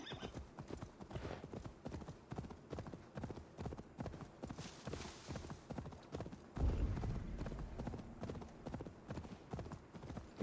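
A horse is ridden in Assassin's Creed Valhalla, its hooves clip-clopping in a steady, rapid rhythm the whole time, with a brief heavier thump partway through.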